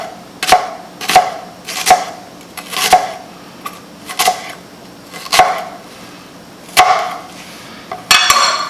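A knife chops raw red onion into small pieces on a cutting board, about a dozen crisp, evenly spaced cuts with a brief faster pair near the end, close and clear with no talking.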